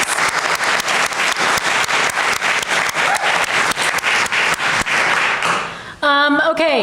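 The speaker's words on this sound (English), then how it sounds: "So let's give Rachel another round of applause." A room full of people claps steadily at a naturalists' club annual general meeting, a dense round of applause that fades out and gives way to a brief tonal sound at the end.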